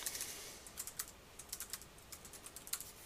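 Fast, uneven typing on a computer keyboard, a run of close, light key clicks with brief pauses and no talk over it.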